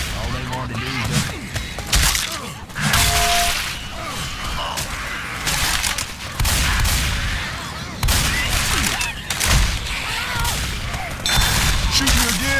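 Rapid bursts of gunfire from a Left 4 Dead 2 shootout on the Day Break custom map, dense and loud, clattering almost continuously with brief gaps, while players talk over the shooting.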